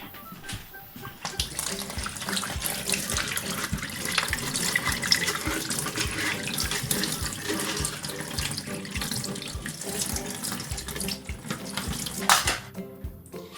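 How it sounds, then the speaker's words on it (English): Coconut pieces being washed in a sieve under a running kitchen tap, a steady close splash of water with light clatter from the sieve and the pieces, no voice over it. "So put these in our sieve and give them a good wash."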